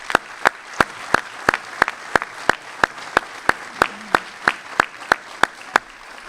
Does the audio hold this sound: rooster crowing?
no